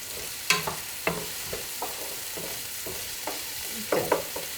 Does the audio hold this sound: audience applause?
no